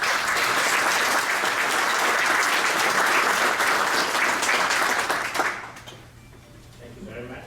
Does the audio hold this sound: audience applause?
yes